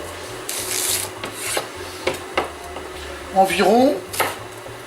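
Knife cutting destringed celery into small pieces about one centimetre across for a rustic peasant soup, a series of close, fairly loud chops and scraping strokes on a board under light talk.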